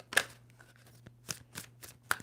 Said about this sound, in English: 2 more shuffles for Aries.